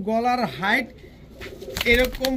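Indian capped Saharanpuri pigeons coo close by in deep, rolling, wavering calls, followed by a short pause and some rustling and flutter-like clatter.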